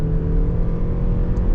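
A Lexus RX hybrid under kickdown acceleration, its engine droning at a constant pitch through the ECVT, a steady close whirring roar inside the car with no talking.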